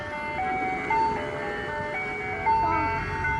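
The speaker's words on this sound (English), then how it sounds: "The ice cream truck is over there." Ice cream truck jingle playing steadily from a distance outdoors, a simple repeating melody carried over low traffic rumble and ambient noise, with the tune shifting pitch in regular phrases.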